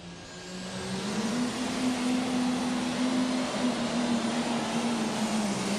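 A light super stock pulling tractor revs hard at a tractor pull in Louisville, Kentucky, and spins its wheels off the starting line. The drone is loud and sustained, and its pitch climbs and holds steady.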